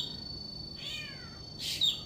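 A mockingbird imitates a cat's meow, giving two short, high, bending mewing calls about a second apart over quiet background.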